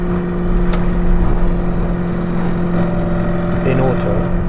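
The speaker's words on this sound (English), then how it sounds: "That's what I love about the Novitec exhaust system" A widebody Lamborghini Urus with a Novitec exhaust system holds a steady, droning engine note close by, with someone talking over it.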